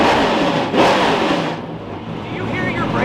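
Nissan GTR engine revving hard, with a loud broadband roar that surges and falls across the clip while voices speak over it.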